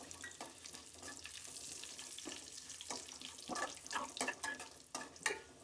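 Dry red chillies and curry leaves frying in hot oil for a mushroom xacuti, a faint crackling sizzle with irregular sputtering bursts that grow livelier toward the end, close by with no voices.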